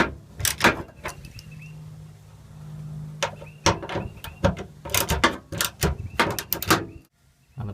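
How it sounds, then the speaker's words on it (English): A ratchet drives 10mm bolts on a truck tailgate latch, giving bursts of rapid close clicking between quieter handling sounds and a brief low mechanical hum. "reinsert and tighten the 3 10mm bolts, including the one that is part of the locking mechanism here"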